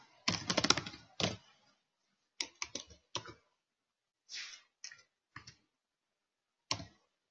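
Keys clicking on a computer keyboard in short irregular bursts of taps, separated by pauses of silence, close and fairly crisp.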